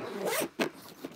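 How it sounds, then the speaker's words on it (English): A carry-on dive bag is zipped shut at close range in two or three quick rasping pulls, each a short scratchy burst, followed by a faint final tug. "and I zip it up"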